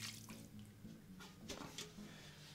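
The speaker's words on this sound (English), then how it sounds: "We're just going to pour some water now just to cover over the bones." Water is poured over turkey bones in a pot for stock, heard as a faint, quiet splashing and trickling with a few brief louder splashes.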